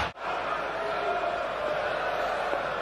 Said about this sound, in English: Listen to the crowd, they're getting into it.